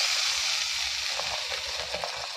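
Spice paste of ginger, garlic, onion, chilli powder, turmeric and salt sizzles steadily in a pan after a splash of water, a close, continuous hiss with faint stirring ticks and no talk.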